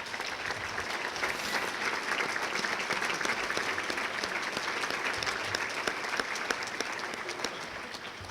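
Sustained audience applause fills a hall of fame induction ceremony, steady and dense clapping from a large crowd throughout with no voices.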